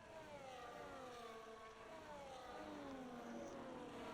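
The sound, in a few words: Aston Martin Vantage racing car engine in a video game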